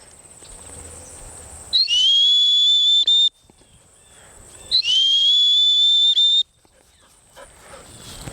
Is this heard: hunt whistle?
yes